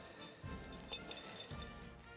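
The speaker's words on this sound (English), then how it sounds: "Put some crushed ice in it." Crushed ice clinks and clatters into a glass while a watermelon vodka Collins is mixed, giving a few soft, close rattling knocks with faint glassy chinks at a low level.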